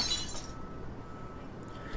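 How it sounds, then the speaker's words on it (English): Glass shatters in a horror visual novel game, a single loud crash at the start whose bright fragments quickly fade into a quiet tail. "The sound of shattering glass goes throughout the air as soon as her hold on it fucking loosens."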